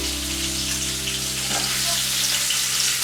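Floured venison steaks fry in a pan with a loud, continuous sizzle and crackle, close up and steady throughout, with no voices.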